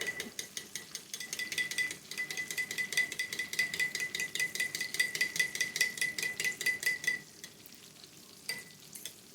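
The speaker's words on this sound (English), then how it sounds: "Stir that up." Food being stirred in a pot on the stove, a rapid rhythmic scraping and clinking of the utensil against the pot for several seconds over a faint sizzle, then a few isolated scrapes.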